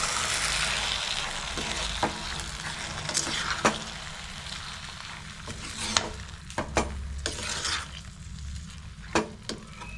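Gongura and green chilli chutney is stirred in a frying pan, with a steady sizzle under the scraping and knocking of a spoon against the pan at an irregular pace, close by and with no talk.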